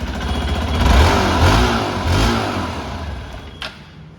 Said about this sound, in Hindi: अब इसके एग्जॉस्ट नोट की बात कर लें तो गाड़ी खड़े में बिल्कुल साइलेंट है